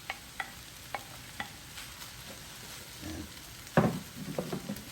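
Leftover rice for turkey fried rice being stirred in a Power XL cooker, with a spoon scraping and clacking in a few sharp strokes over a soft background sizzle, then a louder burst of stirring near the end.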